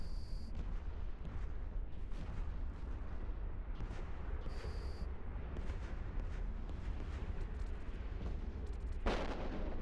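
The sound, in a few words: explosions in EVE Online space combat, video game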